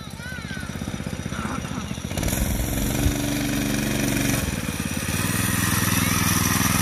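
A Manco Thunderbird minibike with a Predator 212 engine runs steadily nearby, its loud, continuous engine drone holding throughout with some voices underneath.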